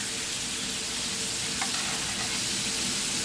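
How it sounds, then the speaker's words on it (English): Meat searing in a hot pan during home cooking, a continuous loud hiss and crackle of frying fat that holds steady and close throughout, with no talking. "And now we make it a nice sear."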